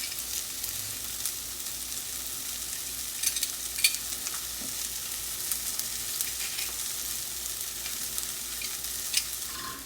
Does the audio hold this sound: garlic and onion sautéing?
yes